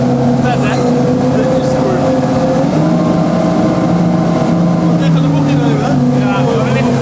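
A three-engine motorboat of about 1200 horsepower drones loud and steady as it passes on the water, its deep engine tones bending slightly as it moves, with no break in the roar.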